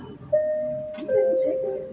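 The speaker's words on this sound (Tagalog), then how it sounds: "Doorbell." A two-tone doorbell chime rings indoors, a sustained ding followed by a lower note, with people talking over it.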